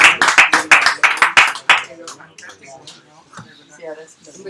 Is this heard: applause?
yes